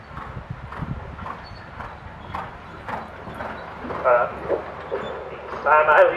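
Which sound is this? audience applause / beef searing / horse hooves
horse hooves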